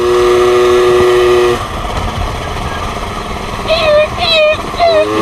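A Peugeot 103 SPX moped engine drones loudly up close with a tinny rattle from a loose mudguard, then the sound shifts into rougher road noise as a voice cuts in briefly.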